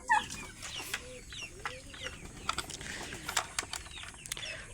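Hens clucking on a small farm where ducks and chickens are kept together, a busy chorus of overlapping clucks and short chirpy calls running throughout at moderate volume.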